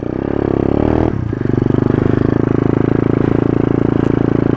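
A motorbike on a beach starts up and settles into a loud, close, rapid putter, with the engine note shifting as it pulls away; no voices are heard.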